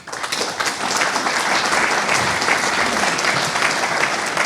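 Loud, dense audience applause at a conference session on transport, a continuous wash of many hands clapping together that holds steady for several seconds without talk.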